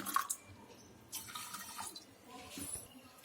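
Water splashes and trickles into a pot of rice in faint, uneven pours, 1.25 cups for cooking dal chawal in a pressure cooker, with quiet kitchen background noise.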